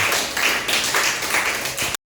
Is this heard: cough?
no